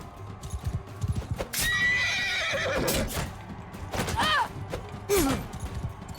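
In the Mount and Blade Bannerlord video game, a horse whinnies loudly several times between clattering hoofbeats and thuds during a close-quarters fight.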